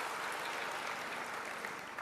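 An audience at an Indonesian government event on regional digital transformation applauds with dense, even clapping that holds at a steady moderate level for the whole moment.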